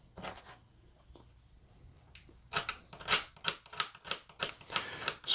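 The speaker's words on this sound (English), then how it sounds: "just use the sandpaper on there to clean it off a little" A short piece of wire for model railroad LED wiring is scrubbed with sandpaper to clean it, giving close, rhythmic rasping strokes in a steady back-and-forth run after a quieter, scattered start.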